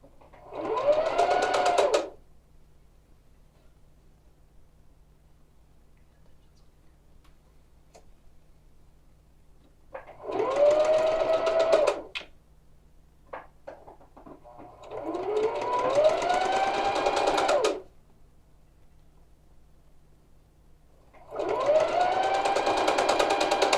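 Sewing machine stitching the underside of a collar onto the body of a tie jacket, running in several separate bursts of a few seconds each with quiet pauses between, close and clear.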